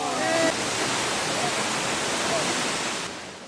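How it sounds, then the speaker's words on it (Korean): Nachi waterfall in Kumano, Wakayama, roaring as a dense, steady rush of falling water, loud and continuous throughout with faint traces of distant voices. "멀리서도 들려오는 물소리, 그리고 눈앞에 펼쳐진 거대한 나치 폭포의 모습은"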